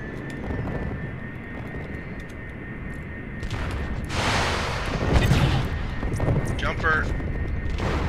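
Mech weapons fire in the Mechwarrior Living Legends game: heavy booming blasts and crackling bursts swell midway through, over a steady droning hum that runs throughout.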